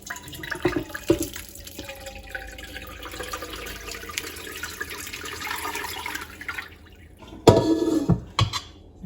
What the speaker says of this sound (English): a jug of very cold water, and the first thing I'm going to do is just pour that over the top